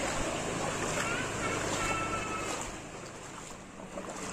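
Vehicles wading through flood water at Bandar Kedungmulyo in Jombang: a steady rush of churning, splashing water with engine rumble, continuous and fairly close, easing slightly toward the end.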